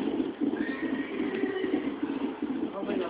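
A horse in the Red Dead Redemption video game whinnies and its hooves clop steadily throughout, close and fairly loud, with someone talking over it.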